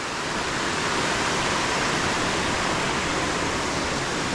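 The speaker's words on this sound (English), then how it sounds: "Waterfall below us." Waterfall seen from above on an Appalachian approach trail, a steady, dense roar of falling water that fills the whole stretch without a break, loud and continuous with no voices.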